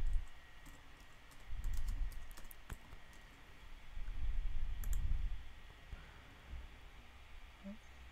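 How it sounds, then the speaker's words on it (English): Computer keyboard typing up close, a steady patter of light plastic key clicks with a few sharper taps, faint and alone over a soft room hiss. "So I would go and just type in Kylie Jenner"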